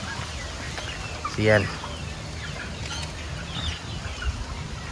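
A heritage chicken gives one short clucking call amid quiet outdoor background noise, with a brief bit of speech nearby.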